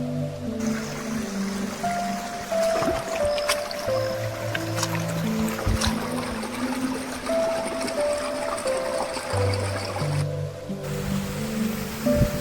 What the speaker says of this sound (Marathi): हा झुळझुळ वाहणारा झरा